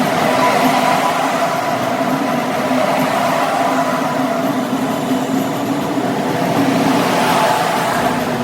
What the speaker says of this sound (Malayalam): ഇപ്പോൾ ട്രെയിൻ തിരുവനന്തപുരം സ്റ്റേഷനിൽ എത്തിയിരിക്കുകയാണ്.